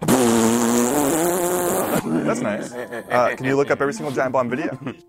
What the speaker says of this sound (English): I make fart noises on the phone.